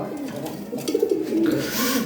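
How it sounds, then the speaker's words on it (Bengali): Lahore pigeons, a large healthy Bombay pair kept for sale, coo close by in a short run of low rolling calls over faint background noise. "আর এ খুব হেলদি কবুতর"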